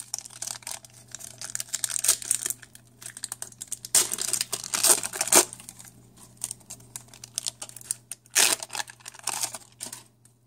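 A foil pack of 1991 Upper Deck football cards being torn open: irregular bursts of crisp crinkling and tearing, close and fairly loud, with quiet gaps in between.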